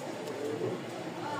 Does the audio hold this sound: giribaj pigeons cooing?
yes